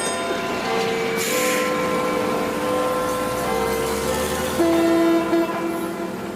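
An archive recording of a London Underground train at a station on the line to High Barnet: a steady, sustained rumble with high tonal whine, a long horn-like tone swelling near the end, no talk.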